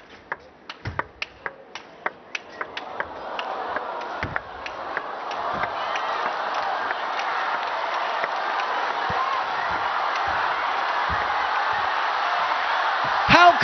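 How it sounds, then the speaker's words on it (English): At a men's singles table tennis match between Hugo Calderano and Simon Gauzy at WTT Xinxiang 2023, sharp ball taps of a rally ring out first. Then crowd applause swells and holds steady, growing louder toward the end. "the crowd is nearly applauding throughout"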